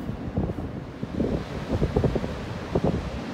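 Wind gusts across a beach, buffeting the microphone in uneven low rumbling bursts with a faint rustle underneath, fairly loud and close, no voices.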